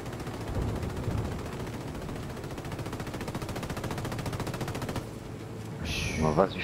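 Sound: helicopter gunfire in video game Ghost Recon Wildlands

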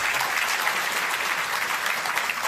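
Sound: audience applause at a live public talk

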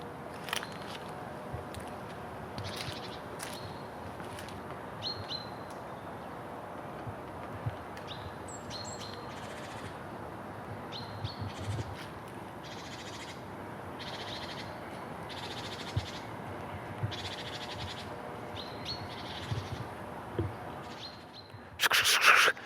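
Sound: great tits calling

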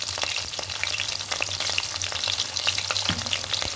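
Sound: cumin, chana dal and mustard seeds frying in oil

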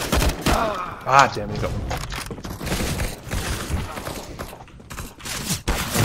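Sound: gunfire in video game CS:GO

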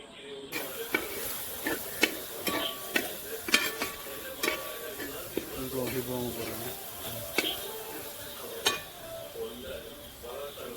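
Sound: stirring spices into liver roast in a pan

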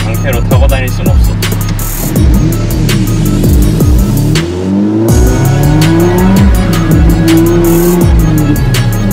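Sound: car with extreme rear camber spinning, tires squealing

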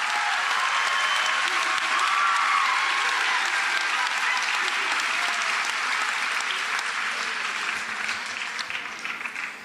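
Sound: audience applause for eighth grade class at promotion ceremony

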